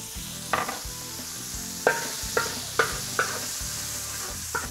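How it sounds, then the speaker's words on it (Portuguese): Thin strips of beef sear in a pan with a drizzle of olive oil, giving a steady close sizzle broken by several sharp clinks of a utensil stirring and scraping, with no talking. "as iscas de carne aqui, cortei bem fininha. Vou selar rapidamente."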